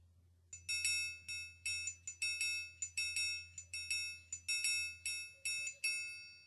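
A metallic instrument struck repeatedly in a steady rhythm, each bright ringing hit sustaining briefly before the next, about a dozen strikes, clear and alone.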